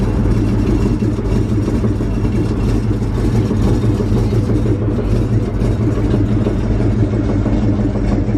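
A car engine with an exhaust leak behind the muffler idles close by with a steady, rough, low rumble that holds unchanged throughout.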